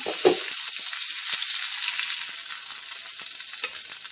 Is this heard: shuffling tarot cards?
no